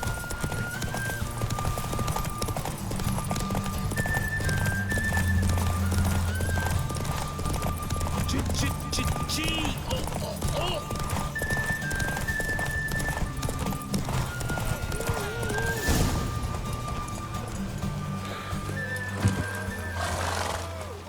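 Steady rhythmic hoofbeats of a galloping horse in a video game race in The Witcher, set in Velen, run throughout, with occasional whinnies and voices over a constant background.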